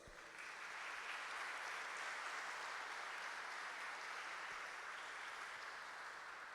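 Steady audience applause in a hall at a university honorary doctorate ceremony, a continuous, even wash of clapping heard alone, fairly distant and without speech.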